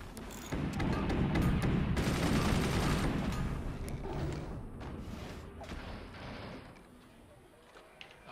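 Heavy weapon fire booms and rattles in the physics-based fort battle game Forts, loudest in the first few seconds, then fading into scattered distant impacts and thuds.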